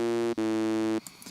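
A buzzy FM synth tone from Ableton's Operator, operator A modulated by a saw wave. One harsh, harmonic-rich note sounds twice with a short gap, then cuts off to faint noise.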